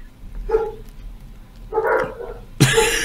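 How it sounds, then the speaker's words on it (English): Dogs barking in three short bursts, moderately close, the last one loudest and sharpest. "Those dogs are going."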